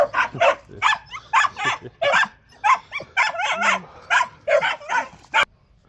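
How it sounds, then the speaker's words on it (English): A small dog barks repeatedly, greeting neighbouring Bichons with a rapid run of sharp, yappy barks and a few whimpering yips, close and fairly loud, with the barks coming in quick bursts for about five seconds. "Dog's saying hello to a few friends."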